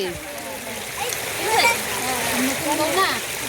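Water splashing and sloshing as a woman fills water at a wedding home in Siliguri, a continuous close watery wash under people talking.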